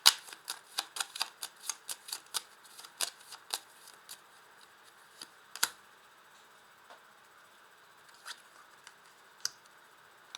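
Tarot cards handled and shuffled at close range, with a rapid run of crisp paper flicks and snaps that thins out into occasional taps and a single card being laid down, no voices present.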